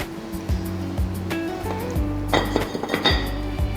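Clinks and ringing knocks sound as a lid is set onto a claypot of eggplant with minced pork, several sharp metallic taps and rattles in close succession over a sizzling background.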